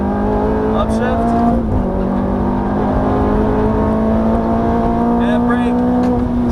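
Ferrari F430 engine accelerating hard on a racetrack, a loud, steady, rising roar with an upshift near the two-second mark, while a man gives driving instructions over it.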